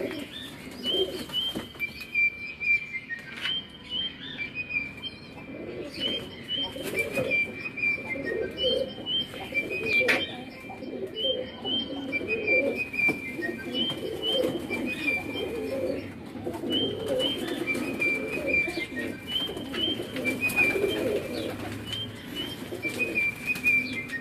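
Breeder pigeons in Karachi coo in soft, repeated throaty phrases, joined by scattered chirps and occasional wing flutters, steady and fairly close throughout with no talking.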